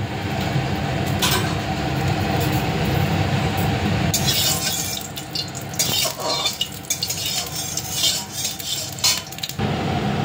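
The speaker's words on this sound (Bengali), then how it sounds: "চিমনিটা অন করে দিলাম।" A kitchen chimney exhaust hood runs with a steady, loud whooshing drone while a pan heats for frying fish. Sharp clinks and clatters of utensils and pans break in repeatedly over it.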